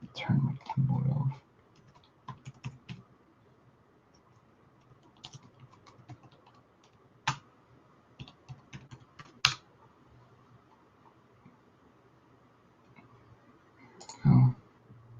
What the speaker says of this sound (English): I've got to turn my keyboard off